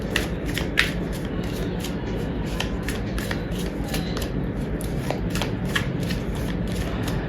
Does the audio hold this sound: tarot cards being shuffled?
yes